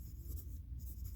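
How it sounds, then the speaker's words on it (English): A number being written by hand on a math problem-set worksheet: continuous close scratching of the writing tool across paper, steady and alone for about a second. "I'm going to write that down."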